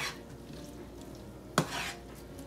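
Chopped vegetables and asparagus sizzle in a hot pan with a steady, close frying hiss. A sharp clatter of a utensil stirring against the pan cuts in midway, and there is no talking.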